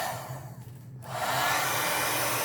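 A heat tool blows air to dry alcohol ink on a rubber-stamping craft piece. Its steady, close whoosh dips briefly, then rises to a full, even roar.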